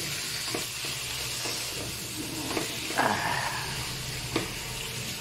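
Pork pieces sautéing with toasted garlic in a hot pan for adobong baboy, a steady close sizzle and hiss with a few stirring scrapes and one sharper burst of frying midway.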